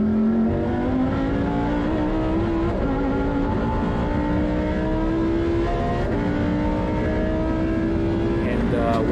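A Lamborghini Super Trofeo race car at Inje circuit drives through high-speed corners and downhill braking, its engine a loud, steady high-pitched drone with slight pitch shifts and gear changes from onboard, while a person talks over it.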